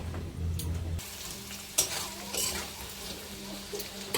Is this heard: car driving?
no